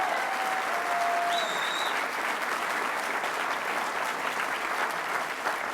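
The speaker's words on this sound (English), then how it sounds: "Let's give them another round of applause." Crowd at a Liberal Party platform launch gives sustained, steady applause, a dense wash of clapping that holds evenly throughout, with brief whistles near the start.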